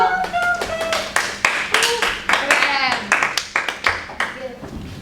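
Students in a micro-teaching classroom clap their hands in a quick burst of sharp, overlapping claps lasting several seconds, with voices and speech mixed in over the clapping.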